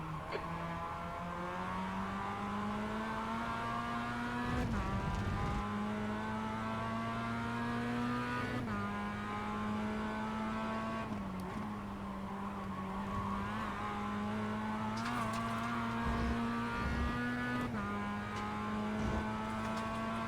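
Race cars roar through a sim-racing session in iRacing, a steady close engine drone with rising and falling revs, brief dips at gear shifts and a few scuffs of tire noise, running alone with no talk.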